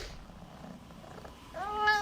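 A cat meows briefly in the background near the end, rising tonal cries over a quiet room with a low hum.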